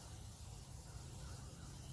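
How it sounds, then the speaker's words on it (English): Steady carbonation fizz from a freshly opened Devils Backbone Orange Smash ready-to-drink cocktail, a continuous close hiss with no talk over it. "classic fizz from RTDs"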